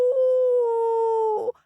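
Voices imitate a wolf howl for a children's story, one long steady sustained 'ow' tone lasting over a second, ending with a brief wavering break, loud and close.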